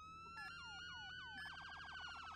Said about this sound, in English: Your different sirens.